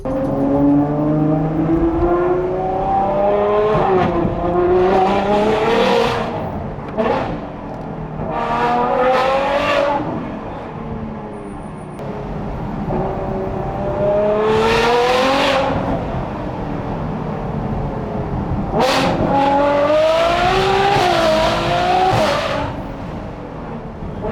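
A supercar engine with exhaust valves closed idles and revs in repeated rising surges, loud and close, with a deep steady rumble between the pulls.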